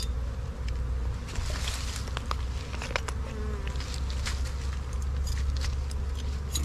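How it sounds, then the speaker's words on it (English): Honey bees buzz around an Apimaye hive during a winter oxalic acid treatment, a steady insect drone with individual bees passing close, under a low outdoor rumble and occasional light rustling. "Bees are definitely checking me out."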